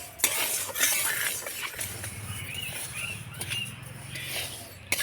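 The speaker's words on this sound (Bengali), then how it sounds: "এবার চালটাকে শুকনো খোলা একটু নাড়াচাড়া করে ভেজে নেব" Rice is dry-roasted in a wok for sandesh, with close scraping and rustling of grains as a spatula stirs continuously over medium heat.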